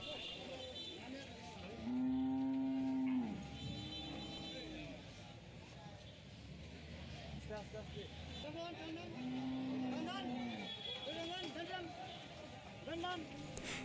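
Cattle being unloaded from a truck at a village cow market give several drawn-out moos, a couple of them louder and nearer, over a busy background of voices and traffic.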